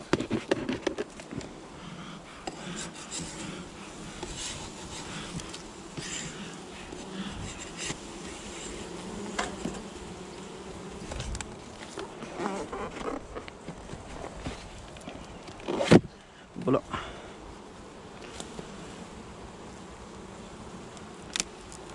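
Honeybees at an open hive during a colony inspection in a bee garden, a steady low buzzing hum throughout with occasional closer knocks and handling sounds, no talk.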